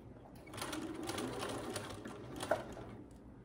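A sewing machine stitches a boho-style blouse in a steady, continuous whir of moderate loudness, with a small click near the end.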